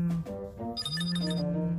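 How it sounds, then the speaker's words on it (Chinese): Cartoon telephone ringing as a character places a call, a bright electronic ringtone of tones repeating over a low sustained hum, close and clear with no speech. "嘟嘟又在给青椒博士打电话了"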